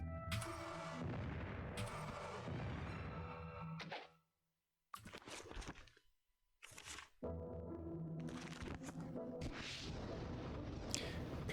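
Explosion spell cast in the role-playing game Might and Magic VII, heard as loud, booming blasts with crackling bursts, separated by brief silent gaps and ending in a sustained rumbling roar.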